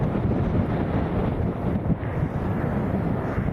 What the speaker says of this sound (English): Oh, it's getting windier.